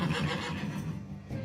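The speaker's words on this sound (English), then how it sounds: "This horse hates me." A horse gives a loud, close whinny that rises and shakes across most of the moment, with faint background noise and no speech.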